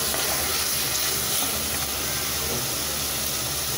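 Mutton pieces and tomato sautéing in a pan for mutton kuzhambu, giving a steady, close sizzling hiss throughout with no talk over it.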